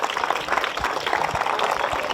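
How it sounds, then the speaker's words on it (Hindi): Steady clapping from a group at an open-air school class held on the bank of the Narmada river, a dense even patter lasting about two seconds with no talk over it. "तालियां।"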